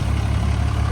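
Turbo diesel Cadillac idling, a steady deep low-pitched engine drone heard close and continuous with no talk over it.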